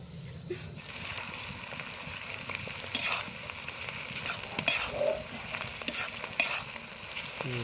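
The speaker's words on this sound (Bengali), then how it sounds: "তো পেঁয়াজটা আমি হালকাই ভাজবো তো পেঁয়াজটা ভাজা হয়ে গেছে" Onions fry lightly in a pan for chilli chicken, a soft steady sizzle broken by several sharp stirring and scraping strokes of a spoon.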